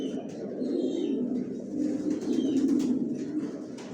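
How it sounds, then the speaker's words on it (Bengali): Large, long-bodied racing pigeons in a loft coo steadily, many overlapping voices blending into a close, continuous low murmur with no talk. "সব বিগ সাইজের, বড় বড় সাইজের কবুতর পালি"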